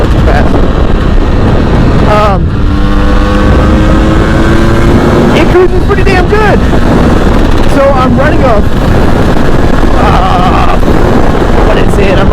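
A KTM 300 TPI two-stroke dual-sport motorcycle cruises at about 70 mph, its engine drone buried under constant heavy wind roar, with voices talking over it.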